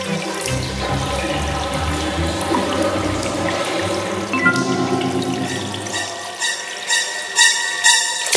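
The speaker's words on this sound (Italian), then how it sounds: "Una bella doccia rilassante!" Water running steadily in a cartoon shower scene, a continuous splashing stream that thins out toward the end into scattered drips and splashes, with no one talking.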